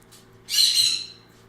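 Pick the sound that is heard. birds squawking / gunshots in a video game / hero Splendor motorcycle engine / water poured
birds squawking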